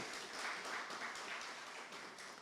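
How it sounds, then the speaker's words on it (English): Audience applause for farmers at a farm tour launch event, a steady wash of many hands clapping at moderate distance, sustained and even throughout with no voices over it. "Can we give our farmers a big round of applause?"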